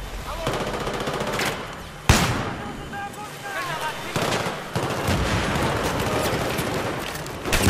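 Rapid automatic gunfire and sharp shots from Battlefield 3 in a hard co-op mission on a Wall Street map, loud and dense throughout with bursts and impacts, while players talk over the battle.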